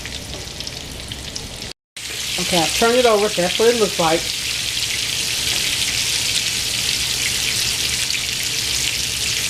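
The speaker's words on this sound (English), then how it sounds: "Okay, we're going to fry this, then we're going to flip it" Tropical-flavored salmon fries in a pan on the stove top with a steady, loud sizzle and crackle that carries on throughout, and a voice speaks briefly over it early on.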